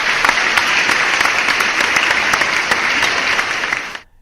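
Loud, close clapping from a crowd rattles on for about four seconds, then cuts off abruptly into silence.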